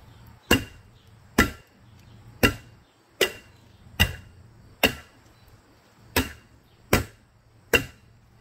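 Knife cutting through an asphalt roofing shingle, eight sharp chopping cuts at a steady rhythm about one per second, close and distinct with quiet pauses between.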